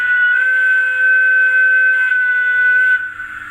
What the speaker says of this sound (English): 3 is playable whistle